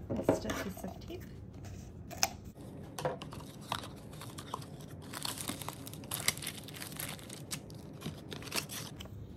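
Tape being peeled off miniature toy packaging during an unboxing, with faint close crinkling, crackling plastic and small ticks that run continuously and quietly with no one talking.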